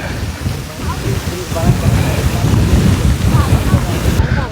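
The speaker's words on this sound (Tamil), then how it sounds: "பயங்கரமாக காற்று குளிர்மையாக இருக்குது" Strong cold wind buffets the microphone at a mountain viewpoint in Sri Lanka, a steady loud rushing roar filling the whole clip with no voices.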